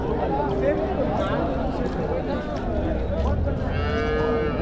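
Cattle and calves moo loudly nearby amid a noisy Friday livestock market in Uthangarai, with people talking throughout and several drawn-out lowing calls.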